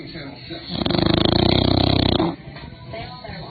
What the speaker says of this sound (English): But they snore so loud.